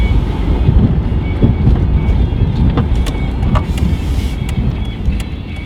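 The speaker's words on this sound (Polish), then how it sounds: "jedzie sobie samochód" A Ford Crown Victoria P71 ex-sheriff's cruiser with a warmed-up engine drives along, making a loud, steady low rumble of engine and road noise with light rattles heard from inside the car.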